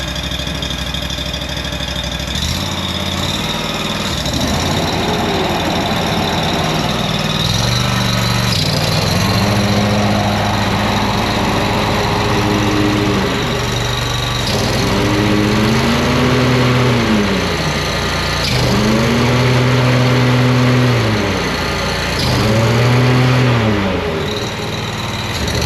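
A lawn mower engine, suspected of a burning clutch, runs loud and close, idling and then revving up and down in repeated swells.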